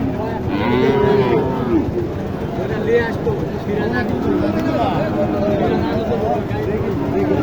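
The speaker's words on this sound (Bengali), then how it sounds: "এখানে অনেকগুলো গরু আছে অনেকগুলো" Several cows moo repeatedly, loud and close, over a constant bustle of a crowded outdoor cattle market in Naogaon.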